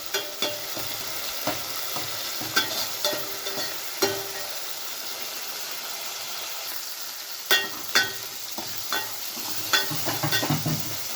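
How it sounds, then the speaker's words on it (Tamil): Chopped onion and a single tomato sautéing in hot oil in a pan, a continuous soft sizzle with frequent scraping stirs and light clinks throughout. "இதில் ஒரே ஒரு தக்காளி நறுக்குனது அதையும் சேர்த்து நல்லா எண்ணெயிலே வதக்கிக்கிறேன்"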